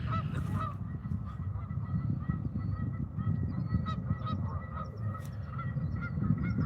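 A goose honks over and over at close range, loud and insistent, with steady bursts of calls filling the whole stretch and no talk over them.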